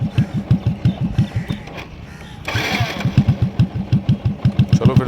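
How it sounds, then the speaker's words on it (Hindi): A motorcycle engine held at a steady throttle gives rapid rhythmic chugging pulses. The pulses fade briefly mid-clip, then a hissing rush swells as the throttle opens, and the chugging returns, loud and close. "कानों को इस तरीके से फोकस करो कि इंजन की आवाज़ अगर ज़्यादा बढ़ रही है तो इसका मतलब मैंने थ्रॉटल को ज़्यादा बढ़ा रखा है"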